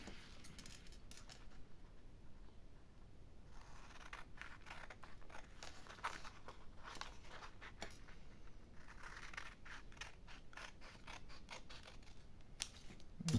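Scissors cut through two stacked sheets of paper at once for a junk journal page, giving a long series of close, crisp snips and rustles without any talking.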